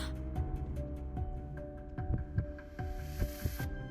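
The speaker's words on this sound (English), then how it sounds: "Her heartbeat quickens in her chest." A game heartbeat effect from Reverse: 1999 thumps in a steady low rhythm beneath a sustained musical score, the beats growing more prominent toward the end.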